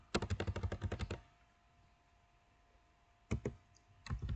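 Two quick bursts of computer keyboard typing, about eight rapid clicks then a pause and a few more keystrokes, entered while configuring a network switch, crisp and close with no talking.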